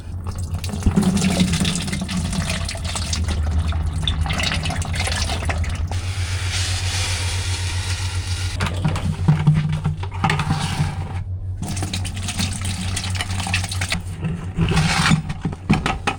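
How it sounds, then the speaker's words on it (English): Engine oil pours from an open crankcase drain plug into buckets, a steady continuous liquid gush that carries on across the clip with a low drone underneath and a brief break partway through. "as soon as I take this plug out, the oil's going to go everywhere"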